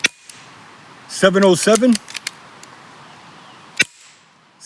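An AEA HP SS precharged airgun fires H&N pellets, with one sharp, close crack at the start and another near the end. A man briefly reads out a number between the shots.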